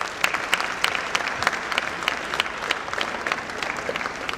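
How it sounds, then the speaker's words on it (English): Steady applause from a school audience at a class presentation, a dense patter of many hands clapping evenly throughout, moderately loud and close, with no voices standing out. "this definitely calls for a huge round of applause"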